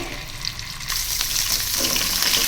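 Sardines coated in masala sizzle and crackle in oil on a hot dosa griddle, a close, continuous frying hiss that grows slightly louder partway through.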